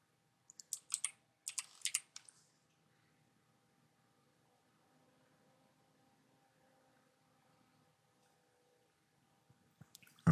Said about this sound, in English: So I might go to shoulder and I might type in manifold.